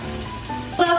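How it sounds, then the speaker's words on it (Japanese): Oyakodon sauce of soy sauce and dashi simmering in a pan, giving a steady, close bubbling sizzle that swells slightly near the end of a brief moment. "これでグツグツ5分10分させていきます"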